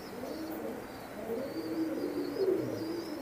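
An imported teddy pigeon coos in soft, low, repeated murmurs close by, with a faint steady hiss in the background and no talking.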